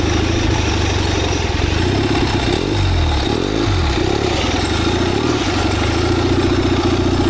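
A turbocharged generator engine on a 4-speed mini bike runs loud and steady throughout, with a harsh droning idle that briefly shifts in pitch as it revs up and settles back.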